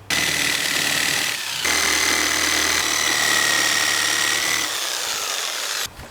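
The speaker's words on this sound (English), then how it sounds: "I'm going to be using a jigsaw to cut this." A jigsaw saws through a wooden rafter board in a loud, steady buzzing run, its pitch dipping under load and cutting out briefly twice, ending with a short pause.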